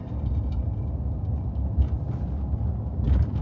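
Low steady rumble of a car driving through a residential neighborhood, heard from inside the vehicle, continuous and fairly loud.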